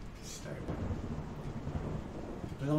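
Thunder rumbles in a video game storm, a low, rolling roll with rain-like hiss that carries faintly through the whole short stretch.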